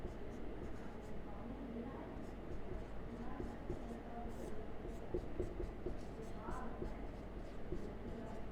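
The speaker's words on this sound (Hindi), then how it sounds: "चलिए इसको लिख लेते हैं" Handwriting during a maths lesson on compound interest: steady soft scratching of a pen on paper, continuous and close, with a teacher's voice faintly present.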